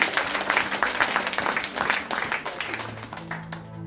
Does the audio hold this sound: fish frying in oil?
no